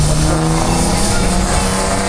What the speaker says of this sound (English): that's followed by another tractor, but this time a Fowler